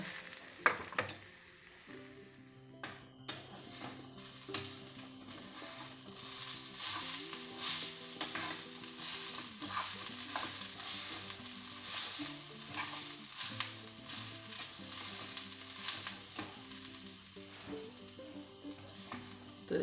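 Fenugreek dosa batter fries in a pan with a steady, close sizzle and crackle that starts abruptly and continues throughout, with light scraping of a utensil; no talking.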